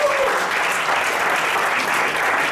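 A business presentation audience breaks into steady, dense applause that fills the room evenly from start to finish, with no single claps standing out.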